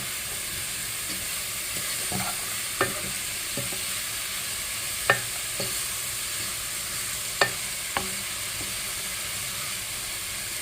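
Lemon pickle being stirred in a pan, a soft continuous sizzle and hiss with scattered sharp clicks and scrapes of the spoon against the pan, close up and without talk.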